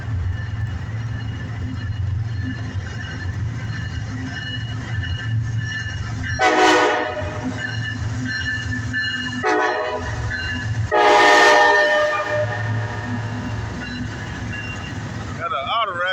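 A CSX southbound freight train rumbling past a crossing in the wet, with two long blasts of the horn over the low continuous roll of the railcars, loud and near, with people talking over it.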